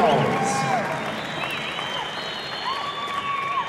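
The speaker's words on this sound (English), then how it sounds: "Big round of applause for these two guys." Crowd applause at a boxing event in San Angelo, Texas, a steady wash of clapping and cheering that fills the whole stretch at even loudness, with faint whistles rising above it.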